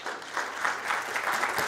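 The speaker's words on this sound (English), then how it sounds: "Clap, clap, clap." Applause from a conference audience at an agile event in Africa, a steady close wash of many hands clapping for about two seconds with no voices over it.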